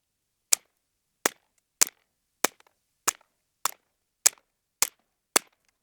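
Nine sharp, quiet pops from a Derya Arms TM22 rifle shooting Winchester Super Suppressed .22 ammunition, evenly spaced about every half second, each a crisp close crack with a short tail and silence between.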